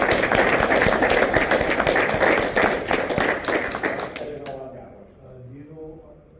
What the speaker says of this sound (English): So I think he deserves a round of applause for that.